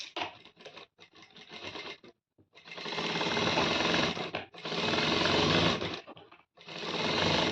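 A sewing machine runs in several loud, sustained bursts while sewing a straight seam to attach a pocket onto fabric, separated by short pauses and a brief gap of near silence.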